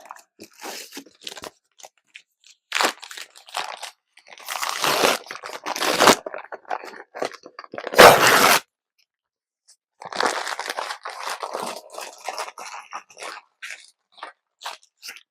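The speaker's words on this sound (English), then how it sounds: "Crumpling up and putting in the bottom of the box" Bursts of packing paper being crumpled and crinkled into the bottom of a box, loud and close, with short pauses between handfuls and a brief silent gap midway.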